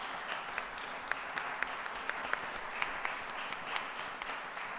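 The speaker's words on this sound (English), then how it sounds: "Can I have a round of applause for the audio people?" An audience at a voice, piano and guitar senior recital applauds the audio crew in a reverberant hall, a dense, steady wash of clapping with occasional sharper individual claps standing out.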